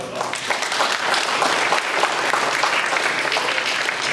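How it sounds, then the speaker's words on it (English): Audience applause for the judges at Silicon Valley's annual Youth Tech Day 2017: steady, dense clapping from a sizable crowd, fairly loud and continuous throughout with no talk over it. "let's give them a big round of applause"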